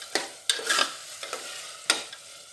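Mutton kheema sautés in released oil in a pan, with a soft background sizzle broken by several sharp scraping stirs of a spoon at irregular intervals, no voices.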